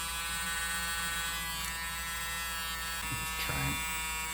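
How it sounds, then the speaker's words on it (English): A Dremel Micro rotary tool fitted with a bit cut from a cheap file runs with a steady high-pitched electric whine, dipping and shifting briefly near the end as it changes load. "Fits in the Dremel Micro here."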